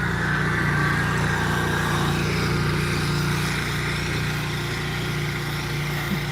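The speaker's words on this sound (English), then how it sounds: "The infamous lawnmower man appears." A lawn mower engine drones steadily nearby, a loud, continuous mechanical hum that holds throughout with no talking.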